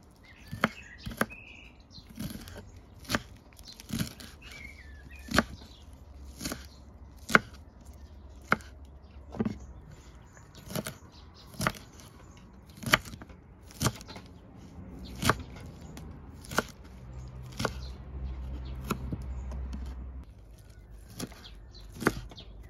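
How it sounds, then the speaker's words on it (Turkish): Washed wild purslane is chopped on a board, a series of sharp, evenly spaced knife thuds, clear and close in a quiet room with no talking. "Yıkadığımız ve temizlediğimiz semizotlarını bir güzel doğrama işlemine geçiyoruz"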